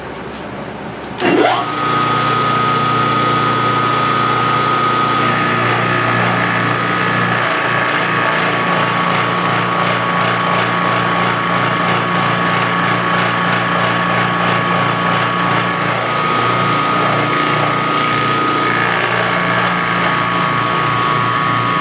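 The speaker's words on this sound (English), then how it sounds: "A 200-pound depth of cut there with a 3/4 inch end mill." A milling machine steadily cuts metal with a 3/4 inch end mill at a 200-thousandths depth of cut, a loud continuous whine with a sharp start, running alone with no talk.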